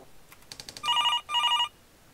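An office phone rings in a business role-playing video game: two bright, electronic trill bursts follow a few short chirps, loud and clear with nothing else around them.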